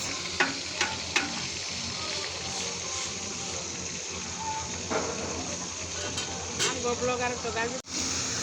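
Constant loud sizzling of chicken leg pieces frying in oil on a rooftop, with occasional clinks and stirring scrapes; a voice talks nearby over the crackle.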